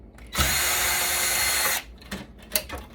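A power tool unscrews fasteners from an Emerson Vertiv network power supply being scrapped: one loud, steady whirring run of about a second and a half, followed by a few faint clicks and handling knocks.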